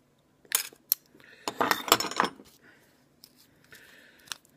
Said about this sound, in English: Cut the end off.